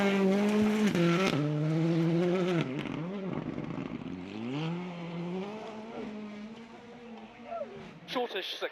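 A rally car on a gravel stage of the International Rally of Whangarei attacks a hairpin, its engine revving hard, dropping and climbing through gears, loud and close, with a burst of gravel spray and a fresh rev at the end.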